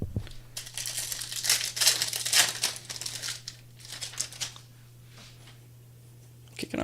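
Topps 2026 Series 1 baseball card hobby packs are torn open by hand, with close, crisp bursts of foil wrapper crinkling and ripping that fade to quiet near the end.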